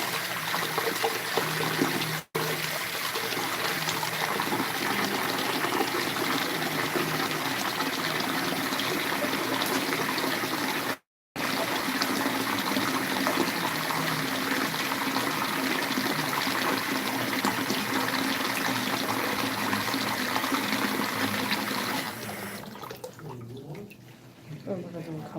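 Hot water runs steadily from a tap for washing off clown makeup, a continuous rushing splash that stays loud throughout with two brief cuts and then fades near the end.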